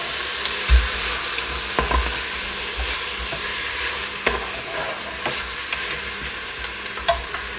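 A wooden spatula stirs frying food in a pot, giving a steady sizzle with intermittent soft scrapes and knocks against the bottom, close and continuous.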